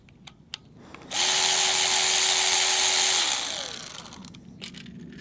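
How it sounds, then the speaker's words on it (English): An electric ratchet whirs steadily for a few seconds while zipping 10 mm bolts off a GM 4L80E automatic transmission during teardown, then spins down with a quick rattle of clicks, close and loud. "we'll use our electric ratchet and we'll zip off the 10s"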